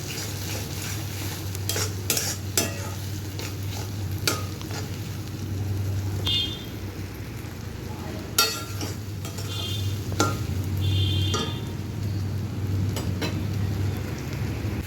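Lote fish (Bombay duck) juri being stirred and dry-fried in a pan, with a steady close sizzle broken by repeated scraping strokes of the spatula and occasional clinks against the pan.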